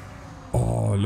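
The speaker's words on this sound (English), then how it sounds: "I absolutely love the sounds" Old-timer truck engines in the Spintires Mudrunner game, a modded playthrough on the Volcano 2016 map, start up after a moment of quiet and hold a loud, steady low rumble.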